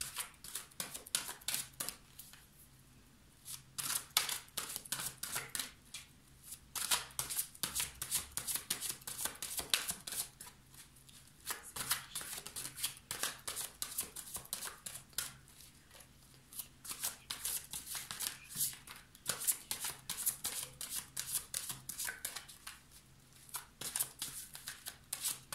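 Playing or tarot cards being shuffled and cut for a new moon reading: rapid, crisp riffling bursts repeat in rhythmic waves, close and fairly loud, with short pauses between shuffles and no voice.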